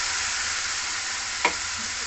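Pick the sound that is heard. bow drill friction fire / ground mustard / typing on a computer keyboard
ground mustard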